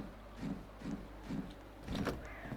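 Sliding, whirring mechanical door opening in the Roblox game Frigid Dusk, with several repeated low swishing movements at moderate, even loudness.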